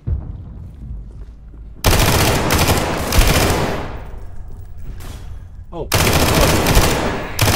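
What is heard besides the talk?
automatic gunfire in the video game SCP 5K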